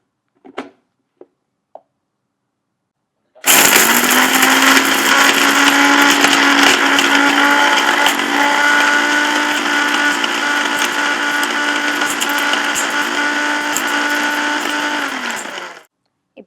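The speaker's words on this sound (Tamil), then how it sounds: "இப்போது இந்த பொடியை நான் அரைச்சிக்கிறேன்." A few sharp clicks precede a blender whirring steadily and loudly for about twelve seconds as it grinds dried athimaduram (licorice root) into powder, then it winds down.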